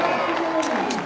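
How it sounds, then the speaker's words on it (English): A beach crowd cheers and roars at a surfing contest. The sound is a steady, dense wash of voices that holds through the whole moment, and it blends with a commentator's talk. "Listen to the crowd."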